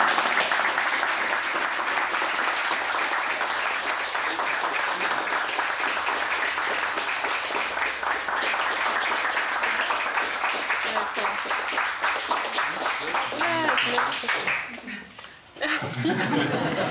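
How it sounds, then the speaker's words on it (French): A French audience claps at a book presentation for an association, sustained dense applause mixed with some chuckling and laughter, fading out near the end as a voice briefly speaks. "ça s'applaudit."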